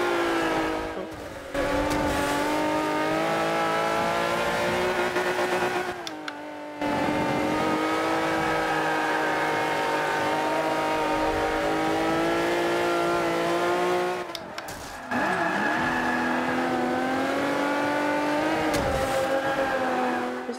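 A maxed-out Hummer engine roars steadily in Forza Motorsport 5, its loud, sustained revving tone shifting pitch with gear changes, broken by two short drops in power.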